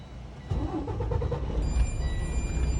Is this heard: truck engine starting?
yes